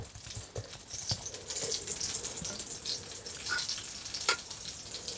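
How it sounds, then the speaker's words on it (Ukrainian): Soft, continuous sizzling of pea-filled pastries frying in oil in a pan, a steady crackle with occasional pops, fairly quiet and without talk. "Там уже в мене перша партія смажиться"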